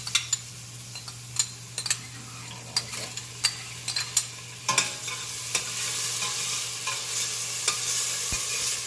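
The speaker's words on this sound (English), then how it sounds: "Actually, I'm going to throw all the onions in. Just let that saute for a bit." Onions sautéing in a pan sizzle steadily, the hiss swelling over time, while sharp close clicks and scrapes from stirring break through at irregular intervals; no one speaks.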